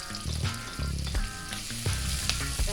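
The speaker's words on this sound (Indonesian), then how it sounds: "Kita goreng, kita tumis dulu bawang bombaynya sampai wangi" Onion and garlic sauté in a hot frying pan, giving a steady close sizzle broken by scraping, clattering stirs of a utensil against the pan, with no talking.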